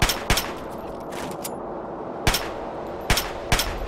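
Sharp gunshots in Fallout 3: a single shot, then a pause, then three more spaced bursts, each fairly close and punchy over a steady low background hiss.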